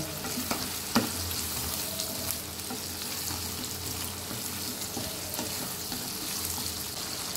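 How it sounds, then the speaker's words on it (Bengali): Pumpkin pieces fry in hot oil in a pan where prawns were just fried, giving a continuous, even, fairly loud sizzle with a few small knocks and no voices. "এর মধ্যে আমি কুমড়োটা আগে দিয়ে দিচ্ছি। এটা 2 মিনিট মতো ভেজে"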